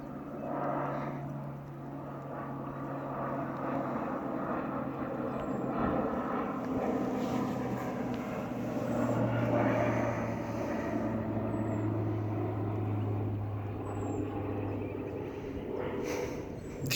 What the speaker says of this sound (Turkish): Oo, Sinop'tan bakın. Uçak nasıl geçiyor.